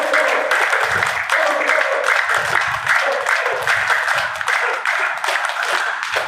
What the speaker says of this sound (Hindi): एक बार नितिन गोयल जी के लिए तालियां